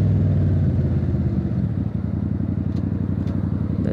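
A motorcycle engine with a slipping clutch revs steadily at close range, a continuous low mechanical drone with fine rhythmic pulsing that holds throughout, with faint clatter on top.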